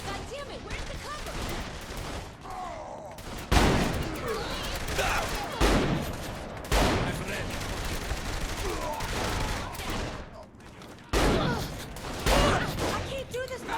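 Dense rapid gunfire rattles through a Saints Row The Third firefight, with loud bursts and sharp impacts layered over continuous shooting while characters shout over the din.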